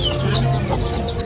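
A chicken clucks up close in a brief burst, short throaty calls against steady background noise.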